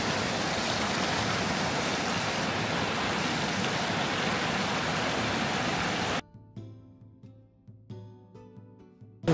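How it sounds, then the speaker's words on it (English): A small waterfall pours with a steady, dense rushing hiss up close for several seconds before it cuts away to a quieter background of faint clatter. "Small waterfall."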